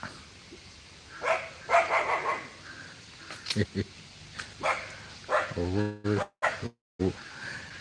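A dog barks a few times in short sharp bursts at a quiet Thai Buddhist temple's evening chanting courtyard, fairly close and mixed with someone talking.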